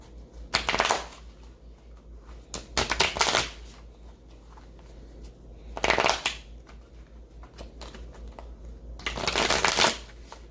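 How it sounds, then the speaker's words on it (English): Tarot cards shuffled before pulling a spread, heard as four separate bursts of riffling and flicking, close and fairly loud, with quiet pauses between them and no talk. "I need to pull one more set of cards"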